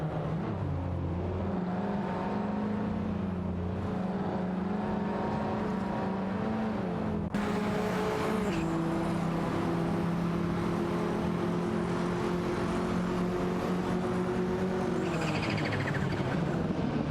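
Porsche 944 Turbos and a Ferrari 308 GTS race closely in a video game, their engines droning steadily with overlapping harmonic tones. Pitch shifts sharply at one point as cars change gear, and the sound stays loud and continuous throughout.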